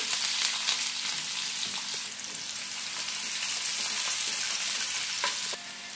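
Chopped garlic, green chillies and onions fry in oil in a kadhai, giving a steady close sizzle with light scraping from stirring and no talk.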